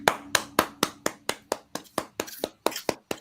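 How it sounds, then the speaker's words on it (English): A single person claps slowly and sharply close to the mic, about a dozen distinct claps in an even rhythm at a sports podcast. "Everybody, round of applause."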